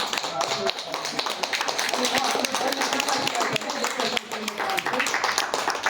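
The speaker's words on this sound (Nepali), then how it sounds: "ल ताली बजाइदिनु" Hands clapping steadily at a Nepali engagement ceremony, a dense, continuous patter of applause from a gathered crowd, with voices talking underneath throughout.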